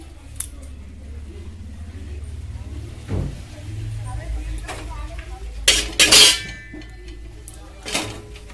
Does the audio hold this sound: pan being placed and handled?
yes